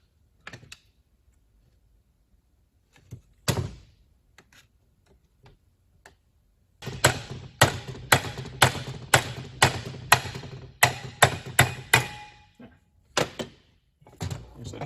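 Gentle tapping on the aluminum crankcase of a 50-year-old Yamaha 340 Exciter engine: a few scattered knocks, then a quick irregular series of sharp, close metallic taps, ending with a couple more.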